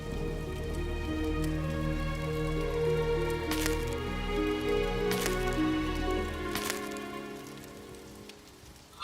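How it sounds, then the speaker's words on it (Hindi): Steady rain falls and patters on surfaces for the whole stretch, a dense continuous hiss with a few louder splashes, no voices, outdoors during a night downpour. "लगता है आज वर्षा रुकेगी नहीं।"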